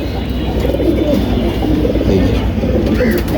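Racing pigeons in cages coo softly in a steady murmur over constant low background noise.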